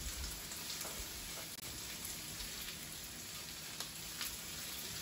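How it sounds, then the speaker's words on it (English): Chopped onions sautéing in a pan over medium heat for an Italian fish dish, a faint, even frying hiss like light rain with occasional soft crackles, heard alone for five seconds. "onions and we're going to saute them over medium heat."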